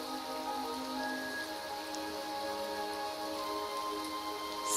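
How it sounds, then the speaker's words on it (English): Steady rain pours down in an open-world survival video game, a continuous hiss of drops on surfaces that holds at an even level and swells slightly louder at the very end. "And here comes the rain."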